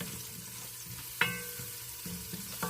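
Gravy base seasoned with pepper stirred in a pan during homemade gravy cooking, a low steady sizzle with a sharp spoon scrape near the middle and a few soft stirring knocks.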